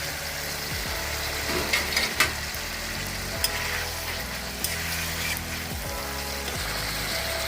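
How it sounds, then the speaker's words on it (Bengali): Fried potatoes go into spices frying in a pan over raised heat for rohu fish curry, giving a continuous close sizzle with a few scattered taps and clinks. "আঁচটাকে এবার একটু বাড়িয়ে দিলাম এবারে দিয়ে দেবো মশলার উপরে ভেজে রাখা আলুগুলো"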